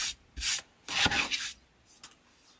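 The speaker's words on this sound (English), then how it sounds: "I gotta scrape this glue off." Glue being scraped off a wreath base in several short, dry rasping strokes, fairly close and moderately loud, with brief pauses between passes.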